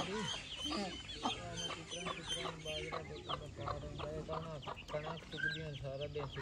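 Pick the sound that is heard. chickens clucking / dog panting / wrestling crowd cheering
chickens clucking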